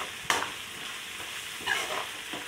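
Ginger paste with turmeric, chili powder and salt frying in a pan gives a steady soft sizzle, broken by a few brief scraping stirs close by.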